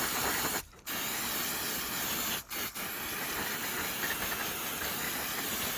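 Brake cleaner sprays in a steady, loud, close hissing blast over engine parts, broken by one short pause near the start and two brief gaps later, with no talking.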